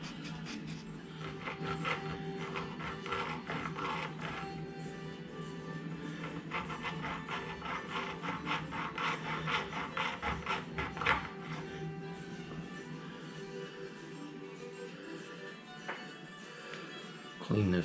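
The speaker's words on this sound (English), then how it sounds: "we're going to try to open this gap up a little bit more with the hacksaw blade" Steady back-and-forth rasping of a hacksaw blade cutting a gap in a joystick bushing of a benchrest rifle rest, in rapid repeated strokes, close by with a brief pause near the end.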